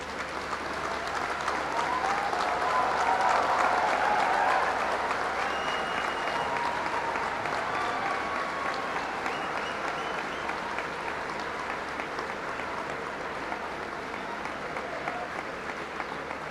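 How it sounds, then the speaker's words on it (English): A large audience at the 60th convocation ceremony of IIT Madras gives sustained applause, a dense, even roar of clapping that swells early and holds steady for about sixteen seconds. "Please join me in extending a warm round of applause."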